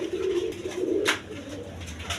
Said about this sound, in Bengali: এক পেয়ার কবুতর, ইরানি রেসার কবুতর, দেখেন রেড চেকার